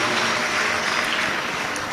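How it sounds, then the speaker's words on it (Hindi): Audience clapping to welcome a host family at a religious katha gathering, a dense, steady wash of applause filling the whole moment with no pauses. "एक बार जोरदार ताली बजाकर यजमान परिवार का स्वागत वंदन अभिनंदन"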